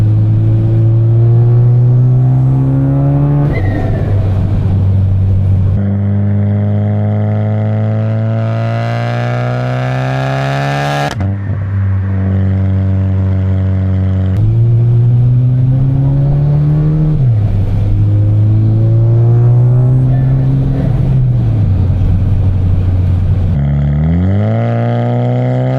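A big-turbo MK6 VW GLI exhaust during a drive uphill, loud and steady, with strong engine drone climbing through several gear pulls, dips at each shift and no voices.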